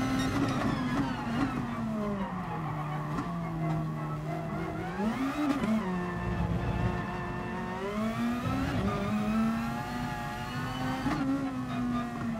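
A race car in the GT Sport video game drives into the pit lane, its engine droning steadily with pitch swells and dips as it slows and shifts, loud and close throughout with no talk.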